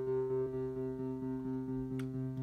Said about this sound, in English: This is the on button for the arpeggiator.